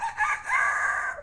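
A grandmother's voice imitates a rooster crowing, delivering one loud, drawn-out cock-a-doodle-doo call with a rising opening and a long sustained tail, close and alone.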